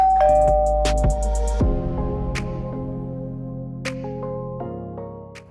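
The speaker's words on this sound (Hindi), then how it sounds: "एक दफ़ा और घंटी बजी।" A doorbell chimes loudly with ringing two-tone notes, followed by a few fainter chimes and lingering tones as it fades out.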